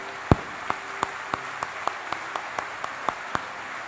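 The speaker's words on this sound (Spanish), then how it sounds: "me gustaría que me ayude y usted le dé un aplauso al otro que vino por haber venido" Sparse, evenly spaced handclaps sound in a church convention hall as a congregation welcomes visitors. The claps come in a slow, steady rhythm of about a dozen beats, with the first one louder than the rest.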